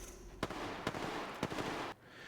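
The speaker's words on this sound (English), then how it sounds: "So some of these gunshots actually." Three sharp Apex Legends gunshots crack at irregular intervals over a continuous noisy background, which cuts off abruptly near the end.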